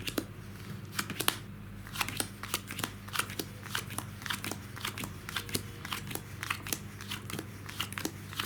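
Playing cards are dealt from a deck into separate piles during a magic trick. Each card lands with a soft, crisp flick, and the flicks come at a quick, fairly regular rhythm, close and quiet.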